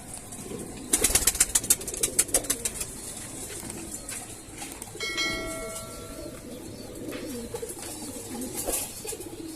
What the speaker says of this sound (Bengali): কিছু কবুতর ডিম নিয়ে বসে আছে